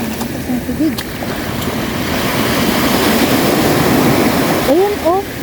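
Seawater at a sandy seaside, a loud, steady rushing wash of water close by, with brief bits of voices and high chirps over it.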